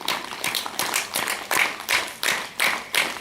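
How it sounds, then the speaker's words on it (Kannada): A group at a Patanjali yoga training session claps hands in a steady rhythm, about ten sharp claps spaced evenly and close by. "10 ಚಪ್ಪಾಳೆ"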